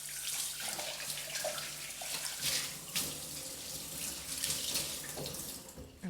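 A pot is rinsed under a running kitchen tap, with a steady stream of water splashing into the sink continuously for several seconds and no talking.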